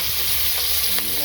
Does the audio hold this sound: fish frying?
yes